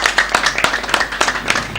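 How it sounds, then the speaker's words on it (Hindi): Audience clapping at a prize and memento distribution ceremony, dense and lively for a short burst, close and fairly loud with overlapping hand claps. "बहुत तालियां होनी चाहिए अभी जरा।"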